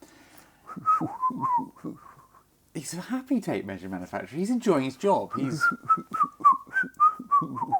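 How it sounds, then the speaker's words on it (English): A person whistles a cheerful, wavering tune in short melodic phrases, mixed with someone talking over and between the whistled notes. "He's whistling a happy tune."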